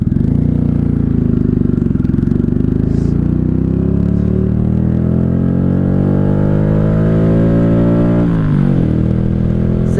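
A 1995 Honda Shadow VLX 600 motorcycle engine revs up steadily under acceleration, its loud, close exhaust note climbing in pitch over several seconds before dropping sharply near the end, as with a gear change.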